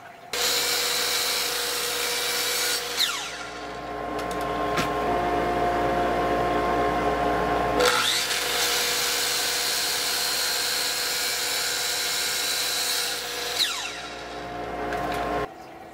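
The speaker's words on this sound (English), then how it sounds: "Making mortises on legs." A power tool cuts mortises into wooden legs for a folding camping table, a steady loud whine running almost throughout with two brief pauses near three and eight seconds.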